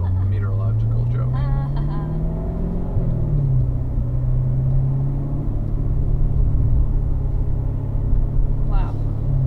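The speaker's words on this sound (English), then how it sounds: "when you're shifting gears, you hear me kind of blip the gas" A 2015 Corvette engine rumbles loudly throughout with a rising rev and a quick blip around a gear change, the pitch sweeping up and then settling, while a voice talks over it.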